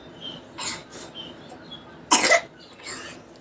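A few soft coughs at a distance, followed by one sharper, louder cough, over faint background noise.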